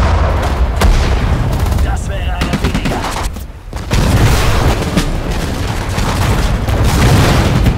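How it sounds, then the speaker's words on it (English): Battle din in Sudden Strike 4 on a World War II Normandy invasion mission: loud, dense gunfire, machine-gun bursts and heavy booming artillery roll almost without pause, dipping briefly before the barrage swells again. "Attack! Fire at the target!"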